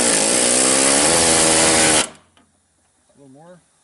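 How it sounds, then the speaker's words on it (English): A rivet gun setting rivets on MG TC seat brackets bursts loud and close for about two seconds, then cuts off abruptly, followed by a short spoken remark. "We're going to change hands and get the rivet gun."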